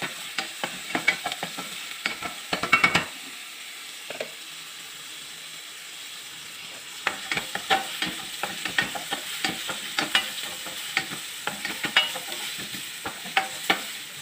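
Oil sizzling in a pan while sardines and bihon are cooked at home, a soft steady hiss broken by sharp scraping and clicking bursts from stirring, with no talking.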